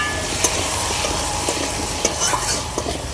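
Raw green mango pieces with salt and turmeric fry in a pan for a tart mango ambal, a steady close sizzle broken by frequent scraping stirs, with no voices.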